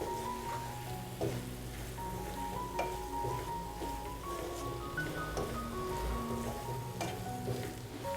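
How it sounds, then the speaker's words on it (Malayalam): Egg macaroni being stirred together in a hot pan, with a steady soft sizzle and faint scraping throughout, no voices. "എല്ലാം കൂടി ഒരുമിച്ച് നല്ലതുപോലെ ഒന്ന് മിക്സ് ചെയ്ത് കൊടുക്കണം"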